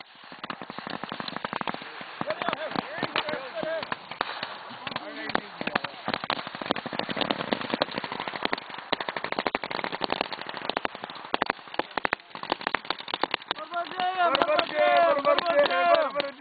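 Machine gun suppressive fire, likely a squad automatic weapon, during a Marine infantry training firefight: rapid cracking bursts and scattered shots ring out in quick succession, with shouted voices over the shooting toward the end.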